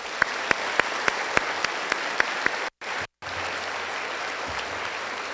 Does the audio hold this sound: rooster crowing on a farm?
no